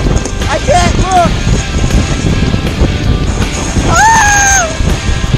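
Strong blizzard wind roars steadily over the microphone on a ski slope at Ski Beech, a continuous rushing buffet that swells slightly near the end, with a person's excited voice rising through it twice.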